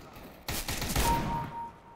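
A burst of rapid gunfire in Counter-Strike: Global Offensive, a loud sudden volley of overlapping shots lasting about a second before trailing off, with a faint ringing tone as it fades.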